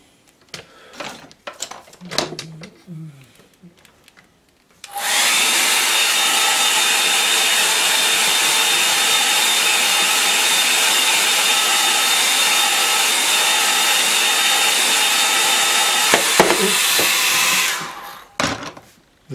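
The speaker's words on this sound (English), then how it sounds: "The tip came off me hairdryer." A hair dryer with its nozzle tip off, used to dry a watercolour painting, whirs on loudly with a steady high-pitched blowing hum for about twelve seconds, then cuts off; faint rustling before and after.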